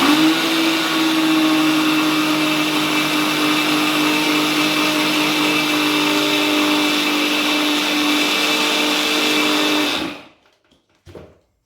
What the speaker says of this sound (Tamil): ஒரு மிக்சி ஜாரில் இந்த ரவையை போட்டுக்கலாம் கூடவே இந்த சுகரையும் ஆட் பண்ணிக்கலாம்